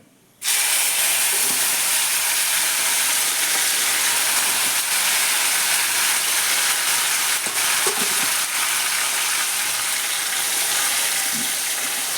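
Tomato goes into hot oil with cumin, mustard seeds and curry leaves, and a dense, loud frying hiss starts abruptly and holds steady. A few faint clinks come through and no one talks.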